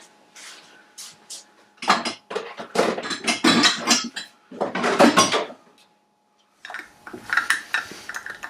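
Lids clinking and twisting onto glass jars of homemade crab apple jelly, a run of close, loud clattering and scraping handling noises with a short pause before more rattling.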